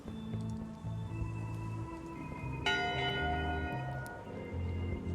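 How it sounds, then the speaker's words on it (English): A ship's bell from Return to Monkey Island rings once, clear and resonant, and its ringing tone decays over steady game music with no voices. "Go ring the bell yourself."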